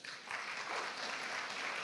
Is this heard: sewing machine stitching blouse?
no